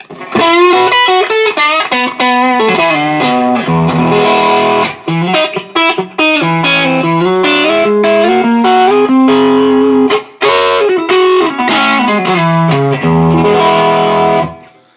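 A distorted electric guitar through a Line 6 Helix modeler plays a crunchy, overdriven riff of chords and single notes, loud and continuous with brief pauses.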